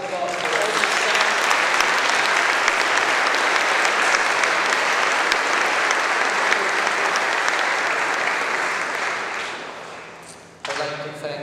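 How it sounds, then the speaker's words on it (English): Sustained audience applause fills a hall as seminarians and staff are honored during a welcome gathering for a priest, loud and steady for about ten seconds before tapering, then a brief burst of clapping resumes. "Please stand, and I think they deserve a nice applause for all the staff."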